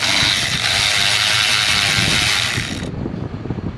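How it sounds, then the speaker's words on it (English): A ratchet works on FICM bracket bolts of a 2003 Ford F450 with a 6.0 diesel, producing steady close mechanical clicking with a loud high hiss that cuts off near the end. "now we're going to go ahead and pull the FICM bracket off"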